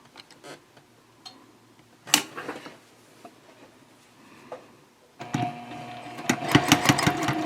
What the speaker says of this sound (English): I'm just going to sew 1/4 of an inch all the way around